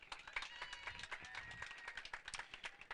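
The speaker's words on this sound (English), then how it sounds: "Give him a round of applause." Audience applause at a bass fishing tournament weigh-in, a scattered patter of clapping from a modest crowd, faint and somewhat distant, rising and falling unevenly over three seconds.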